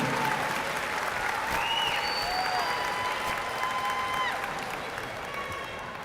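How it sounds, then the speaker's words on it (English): Audience applause fills a graduation ceremony hall, a dense steady roar of many hands with a few whistles and cheers rising above it, lasting the whole stretch and easing slightly at the end. "So give her a round of applause."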